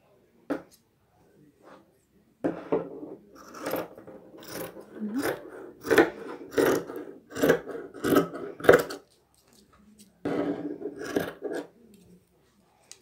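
Scissors cutting fabric for a winter cardigan, a series of crisp, rhythmic snips and rasping slides in close bursts separated by short pauses, with a quiet gap before a final run of cuts.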